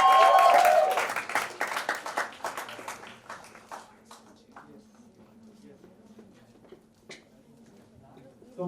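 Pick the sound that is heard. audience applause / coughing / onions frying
audience applause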